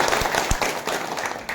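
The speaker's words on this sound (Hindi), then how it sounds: "5 बजे जोरदार ताली बजाइए" A seated crowd at a religious procession gathering claps together in a dense, steady burst of applause, with a couple of sharper low thumps standing out briefly over the continuous patter.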